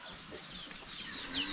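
Chickens on a small provincial farm cluck and call softly in the background, faint and scattered over steady outdoor ambience.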